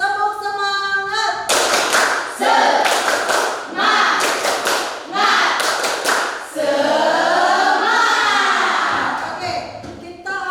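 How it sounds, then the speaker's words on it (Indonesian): A classroom group does a rhythmic 'tepuk semangat' clapping routine, short loud bursts of patterned claps alternating with voices chanting together between them. "Tepuk semangat."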